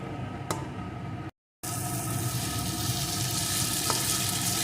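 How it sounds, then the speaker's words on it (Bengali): Raw moong dal paste sizzles and fries with spices in a pan, a steady close hiss with occasional scraping clinks of stirring, briefly cut to silence once before resuming, no talk. "ততক্ষণ আমি মুগ ডালটা এইভাবে কষিয়ে নেব"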